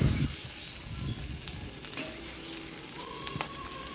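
Vegetables with egg, turmeric and salt fry in hot oil in a home kitchen, a steady soft sizzle with a few light stirring clicks.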